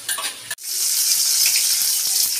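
Tempering for tomato chutney hits hot oil in a home kitchen: after a brief sound and a split-second pause, a loud steady sizzle bursts up and keeps hissing evenly, close and with no voices.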